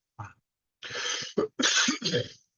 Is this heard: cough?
yes